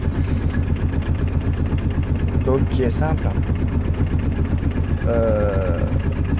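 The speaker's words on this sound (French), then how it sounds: "Voilà le bruit de la voiture." A small Kubota engine in a microcar idles with a steady, low rumbling chug throughout, loud and close, while someone speaks briefly over it.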